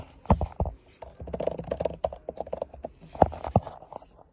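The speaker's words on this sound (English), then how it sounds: "Now, type in your password." Someone types a password on the keyboard of a Mac with a Touch Bar at the macOS login screen. Close, irregular keystrokes come in quick clusters with short pauses, and no one speaks.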